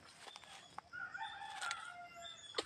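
A rooster crows at a moderate distance in an outdoor rural setting, its drawn-out call rising and sustained for over a second against faint ambient noise and a few brief sharp sounds.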